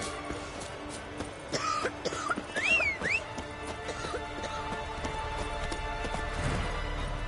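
Roach, a horse in The Witcher 3: Wild Hunt on PS4, moves along with steady hooves clip-clopping at moderate volume and a snort or whinny partway through, over soft ambient background.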